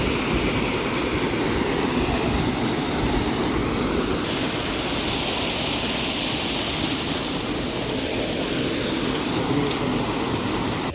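A waterfall in the Tatra mountains roars as a steady, loud, broadband rush of falling water that fills the whole stretch without pause or any voices.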